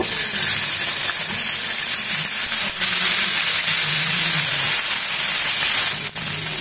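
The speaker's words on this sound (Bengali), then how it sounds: "আমি ওই তেলেই ফুলকপিটা একটু ভেজে নেব।" Cauliflower frying in oil, a loud, constant hissing sizzle that holds steady throughout without pause or voices.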